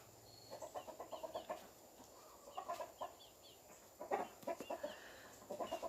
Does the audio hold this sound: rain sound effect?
no